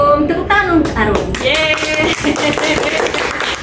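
Students in a classroom clap together after a biology lesson on membrane transport, a short burst of applause mixed with voices and chatter throughout.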